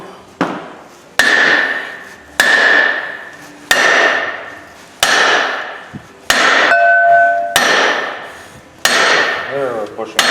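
A hammer strikes repeatedly to drive a bushing out during line bore assembly, about eight sharp metallic blows at an irregular, roughly one-per-second pace, loud and close, each ringing briefly before the next.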